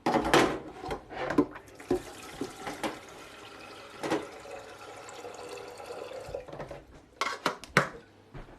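Water splashes into a pan at a kitchen sink during mac and cheese prep, with intermittent gushes and clinks of cookware, close by and moderately loud, with no voices.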